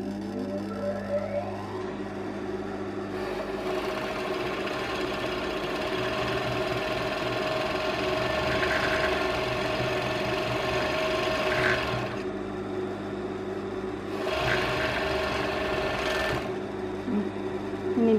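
A running overlock sewing machine stitching white and black fabric gives off a steady, fast mechanical whir, with bursts of louder stitching as it sews, heard up close and without speech.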